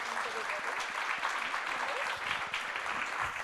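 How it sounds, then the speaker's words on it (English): Conference audience applauding the panelists, a dense, even wash of clapping at moderate distance throughout, with a voice faintly audible beneath it. "So a big applause to our panelists"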